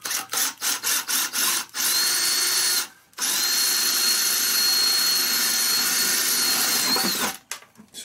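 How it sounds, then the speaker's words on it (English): Power drill boring a series of holes into a budget DIY recirculating sluice box, starting with several short bursts, then one long steady whine, a brief stop and another sustained run before tapering off; loud and close, no talk. "So I'm just going to put a mess of holes in here."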